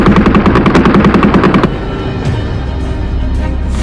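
Gunfire in a staged army battle scene: a loud, rapid burst of machine-gun shots for about a second and a half, then a fading rumble with a few fainter pops.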